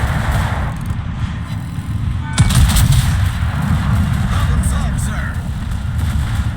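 Heavy shell fire and explosions from enemy guns roar in a tank battle video game, a dense continuous barrage with a louder impact midway, and no voices heard.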